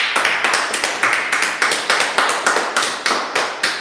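A congregation at a Sunday church service claps together in a steady, quick rhythm, loud and close, with a bright crackling texture and no one speaking over it.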